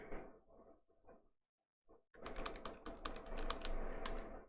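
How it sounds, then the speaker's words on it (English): Close, quiet typing on a computer keyboard: a few sparse bursts of key taps, a brief pause, then a longer, denser run of rapid clicks. "Let me make sure I just type all this out."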